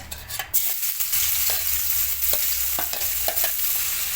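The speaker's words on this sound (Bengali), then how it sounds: "কড়াইতে দিয়ে দিচ্ছি কেটে রাখা পেঁয়াজ," Chopped onions hiss loudly in a hot kadai, a dense, continuous sizzle broken by faint clicks of stirring, with no voices.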